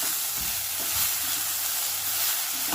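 Chickpea greens and soaked dal being sautéed in a pan give a steady broadband sizzle with a few soft stirring scrapes and low knocks, close and continuous, no voices.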